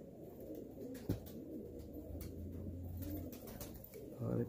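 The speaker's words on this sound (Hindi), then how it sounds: "अपना बड़ा चिट्टा कबूतर जी" Soft, low cooing from a large white pigeon repeats close by over a quiet background, with a sharp click near the middle and a brief rustle at the end.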